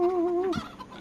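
Chickens in the farming game Farming Simulator 25 give a close, loud cluck with a steady tonal call that breaks into a short squawk partway through, with no talk.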